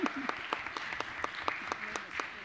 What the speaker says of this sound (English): Go ahead, you can clap again.